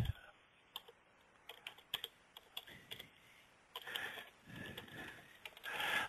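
Someone types text on a computer keyboard, producing quiet, irregular key clicks. The clicks come in scattered bursts and grow into a denser, faster run toward the end, with no talking.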